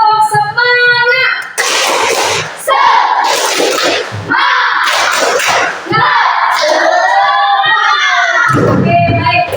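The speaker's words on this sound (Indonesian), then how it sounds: "Sekali lagi, tepuk semangat." A second round of tepuk semangat from SDN Bangkong schoolchildren: chanting young voices trade off with loud, punchy bursts of unison clapping in a patterned rhythm, heard up close.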